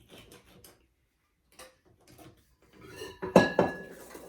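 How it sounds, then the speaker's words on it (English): Oatmeal raisin cookie dough is scraped off a metal mixer beater, a few soft taps followed by louder sharp metallic clinks and knocks near the end. "I'm taking it off of my beater because I've got dough on there"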